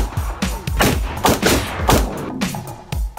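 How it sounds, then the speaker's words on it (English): Repeated gunshots ring out at a Las Vegas shooting range, sharp loud cracks at irregular intervals, several close together, with a roomy echo after each. "Fire guns."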